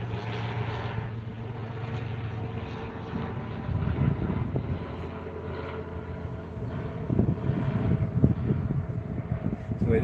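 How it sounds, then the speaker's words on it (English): An airplane passes overhead above a front porch, heard as a steady low rumbling drone that swells slightly, with wind buffeting the microphone. "The plane's going above."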